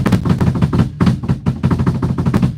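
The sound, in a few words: drums played rushed and sloppy with flams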